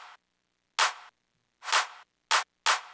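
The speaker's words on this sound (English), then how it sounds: "Duplicate the clap and reverse it to make what we call the pre-shifter." Four bursts of a swelling, reversed clap sample for a bass house track, each fading in and cutting off abruptly, separated by short silences.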